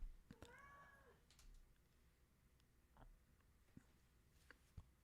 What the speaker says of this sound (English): Sorry, the cat gets like worked up.